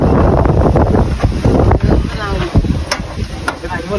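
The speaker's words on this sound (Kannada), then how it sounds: "ಗಾಳಿ ಹೊಂಟಿದ್ರಿ, ಮಳೆ ಮಾಡಾಗಿದೆ ಕಡೆ ಎಲ್ಲ." Strong wind gusting outdoors as rain sets in, loud buffeting rumble against the microphone with brief muffled voice sounds under it.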